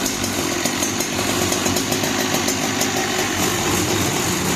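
A Husqvarna 365 chainsaw engine runs at a steady fast idle, loud and close, with a rapid buzzing pulse and no one speaking.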